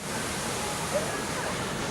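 Broadband wash of sea waves at Imouran beach near Agadir on a summer day, a steady, close surf roar with no distinct breaks, faintly windy.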